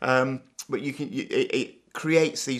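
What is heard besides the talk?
No everyday noises stand out.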